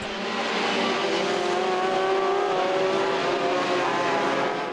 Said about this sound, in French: c'était reparti pour le second affrontement de 120 minutes sur ce même circuit de Mettey, avec cette fois un duel annoncé entre Stine